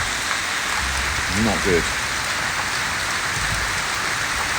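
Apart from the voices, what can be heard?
heavy rain pouring onto a building site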